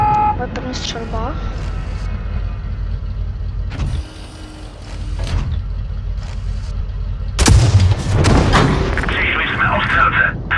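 Tank cannon shots in World of Tanks come as sharp, loud booming blasts, one about midway and a heavier one near the end, over a steady engine rumble and other game sounds.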